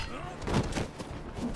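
An explosion attack in the mobile game Marvel Strike Force makes a short, punchy blast and some thudding impacts, with game sound layered around it.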